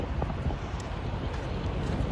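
Steady wind roars across an outdoor microphone on a windy day at a trucking stop, a continuous broadband rush with no talk.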